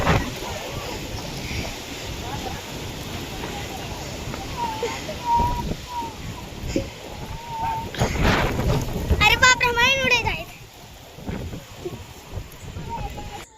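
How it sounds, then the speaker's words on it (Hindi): A sudden big storm blows in with strong wind, a rough gusting roar with rumbling swells. A voice speaks over it and other sounds come and go. "अचानक से इतना बड़ा तूफ़ान आया कि पूछिए मत"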